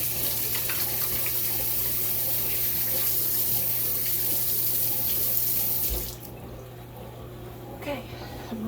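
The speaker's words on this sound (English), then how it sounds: "Let me wash my hands." A kitchen faucet runs steadily as hands are washed under it, a close, even rushing hiss lasting about six seconds before the tap shuts off and the room falls much quieter.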